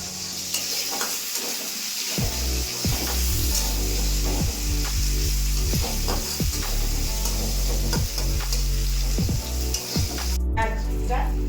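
Onion, garlic, cumin and dried chilli sizzle steadily in hot oil for a Bengali fenugreek-leaf (methi shak) dish, with loud continuous frying and stirring scrapes in the pan, no talk.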